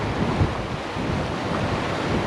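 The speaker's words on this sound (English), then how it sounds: "I'm pretty sure you've seen rivers before, a bit of flowing water." River water flowing steadily in the Tom Groggin area of the Australian high country, a constant broad rushing wash without pauses, close by and fairly loud, with no voices.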